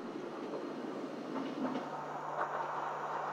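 A Nagano Electric Railway train runs on the Yashiro branch line, a low, steady rumble of wheels and car noise with faint rhythmic clicks, heard from inside at moderate volume.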